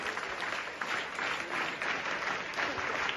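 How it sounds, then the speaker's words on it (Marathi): An audience at a Shahu Maharaj Jayanti event in Kedgaon gives a round of applause, a moderately distant, even patter of many hands that carries on throughout. "सरांचं एकदा आपण फ्री क्लॅप्स मध्ये टाळ्या वाजवून अभिनंदन करूया"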